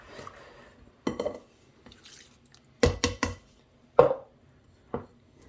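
Batter for apéritif cakes being stirred and mixed by hand, with a series of sharp, wet clacks and scrapes of a utensil against the bowl in irregular bursts, fairly close.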